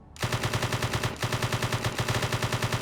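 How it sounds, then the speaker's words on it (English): Scar H rifle fire in the modded video game Space Engineers, a loud sustained automatic burst of rapid, evenly spaced shots that runs nearly three seconds with a brief break partway through. "We are just shooting up the ship at this point."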